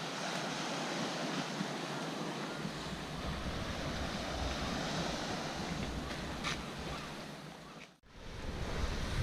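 Surf washes steadily onto a small beach of pink granite rocks on the Brittany coast, a continuous loud roar with wind buffeting the microphone and a brief dip near the end.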